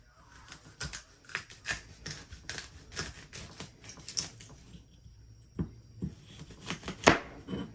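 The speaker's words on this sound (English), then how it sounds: "The first thing you're going to do is cut the stalk right here." Knife cutting through the stalk of fresh broccoli on a board, a quick series of crisp chopping taps in an uneven rhythm, close and fairly quiet, with no talk.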